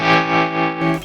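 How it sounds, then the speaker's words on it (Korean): Enya Inspire smart guitar played through a tremolo effect, a sustained processed tone swelling and dipping in loudness in a steady pulsing rhythm, close and loud, with no talking. "트레몰로가 걸린 소리였군요"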